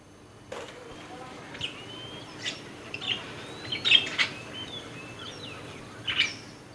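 Several birds chirp and tweet in short bursts and thin whistled calls, scattered irregularly over a steady outdoor background hiss, fairly faint and moderately distant.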